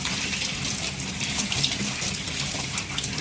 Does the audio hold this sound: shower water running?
yes